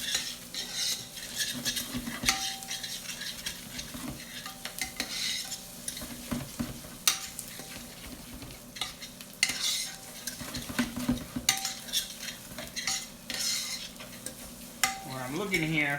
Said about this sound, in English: I'm going to add my pine nuts, and I'm going to toast them in here.